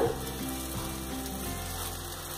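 Ladle of instant bread-based uttappam batter hitting a hot tawa gives off a steady, close sizzling hiss that stays even throughout, with no voices.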